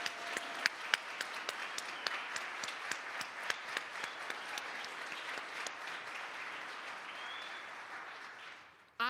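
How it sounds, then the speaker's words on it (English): An audience at a poetic-gospel concert applauds steadily for several seconds, dense clapping from a full room with scattered louder claps, fading out at the end. "can we just give them a round of applause?"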